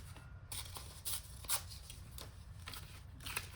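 Painted corrugated cardboard is folded and handled up close, giving quiet, crisp crinkles and brief scraping rustles at irregular intervals.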